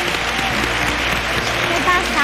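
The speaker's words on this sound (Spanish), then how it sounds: "Un aplauso para mi pueblo, por favor." Steady, dense applause from a crowd, clapping continuously and fairly loudly throughout, with a few whistles near the end.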